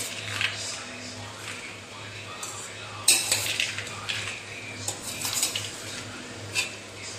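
Cumin powder, chopped coriander leaves and salt stirred into potatoes, with a spoon scraping and clinking against a metal bowl in irregular bursts, a low hum underneath.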